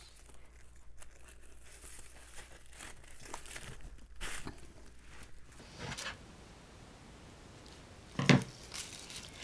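Tissue paper being tied and pulled tight into a party bow, soft crinkling and rustling throughout with one sharp, louder crunch near the end, close up.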